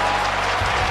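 Sydney Swans fans at an AFL match against Gold Coast, a loud, broad roar of crowd cheering and applause filling a brief moment.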